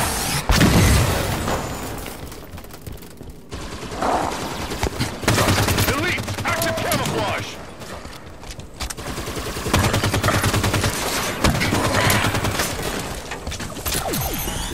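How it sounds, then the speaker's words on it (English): Combat in the video game Halo 5: Guardians brings a grenade explosion and bursts of rapid gunfire, loud and sustained with repeated heavy blasts, while voices call out briefly. "Incoming grenade!"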